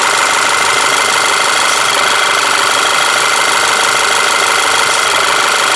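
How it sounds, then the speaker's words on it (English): Air rushes from a failed breather on a 2009 VW Passat 2.0T engine, a loud, steady, close broadband hiss that runs unbroken over the running engine. "One thing I noticed is at first I thought I didn't hear an air leak."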